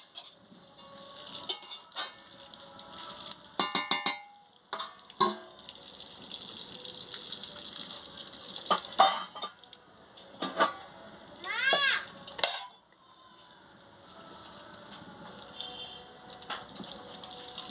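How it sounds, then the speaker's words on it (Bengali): Water spinach frying in a pan, stirred with a spatula: intermittent scraping and clinking strokes in irregular bursts over a soft sizzle, fairly close. "নুন দিয়ে একটু চাপা লাগিয়ে দিচ্ছি, নেড়ে দিচ্ছি"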